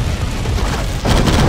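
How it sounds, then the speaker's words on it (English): Airstrike explosion in the mobile shooter Tacticool, a heavy, rumbling boom that fills the short moment, loud and close, with a second surge of blast noise near the end. "Airstrike."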